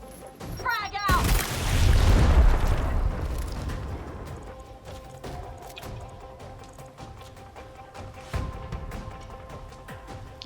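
In a video game, a frag grenade goes off as a heavy booming blast, then rumbles away under scattered gunfire and sharp clatter, with some speech mixed in.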